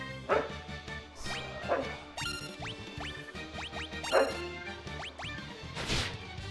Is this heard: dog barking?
yes